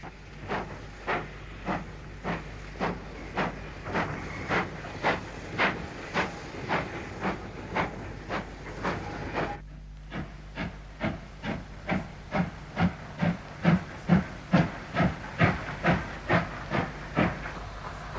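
LMS 4F 0-6-0 steam locomotive 44395 sets its train back into junction sidings with slow, evenly spaced exhaust chuffs over a steady steam hiss. The beats briefly soften, then return louder and sharper.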